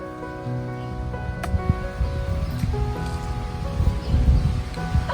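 A lawn sprinkler sprays water in a steady, rain-like patter and hiss that continues without a break, close by and with no talk.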